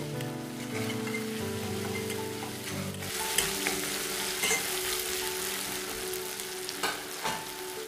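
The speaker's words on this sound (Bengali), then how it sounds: "এবার দিয়ে দিচ্ছি 1 টিস্পুন আদা ও রসুন বাটা। আদা রসুন বাটাগুলোকেও পেঁয়াজের সঙ্গে একটু ভেজে নেব।" Ginger garlic paste frying with onions in a pan, a steady close sizzle that swells louder after a burst of stirring.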